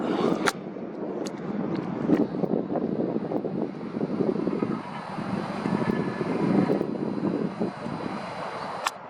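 A distant aircraft flying high overhead gives a faint, steady, broad rumble that slowly swells and fades, with some wind noise on the microphone.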